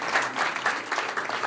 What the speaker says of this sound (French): On ne dit pas non à quelques applaudissements.